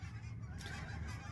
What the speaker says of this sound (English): the gigantic flock of geese that just flew overhead